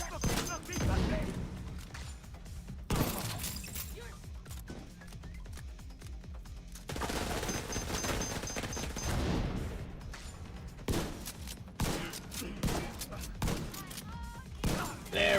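A mounted heavy gun fires in The Division 2, with repeated bursts of booming automatic fire separated by short pauses and a player voice shouting faintly underneath.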